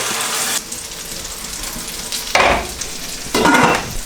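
Guanciale sizzles steadily in a hot pan, releasing fat, with a few louder bursts of frying as it is stirred or moved, close up and without speech.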